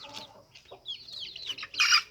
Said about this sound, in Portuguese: Tô aqui hoje com o meu galo vermelho.